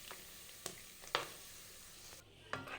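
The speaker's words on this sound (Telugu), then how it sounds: "ఈ అల్లం వెల్లుల్లి పేస్ట్ అంతా మొత్తం ఆయిల్లో బాగా కలుపుకోవాలి" Ginger garlic paste stirred through hot oil for a Telangana mango pickle gives a low steady sizzle, broken by a few sharp scraping strokes of the spoon against the pan, quiet and close with no voices.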